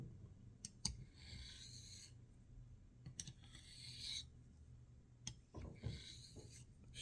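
Dovo straight razor rubbed across hard sharpening stones: faint, repeated gritty scraping strokes with a few light clicks in between, close up and alone.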